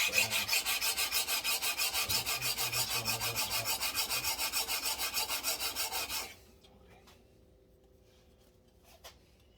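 A knife is drawn in repeated even strokes across a coarse-grit sharpening stone, a close rhythmic rasping for about six seconds, then stopping, leaving quiet room tone with a faint tap.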